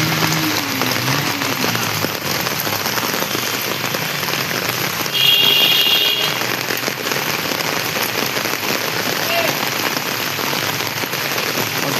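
Heavy rain pours down on a flooded night in Dum Dum, Kolkata, a dense and unbroken hiss of drops on surfaces, with one faint whistle-like tone partway through.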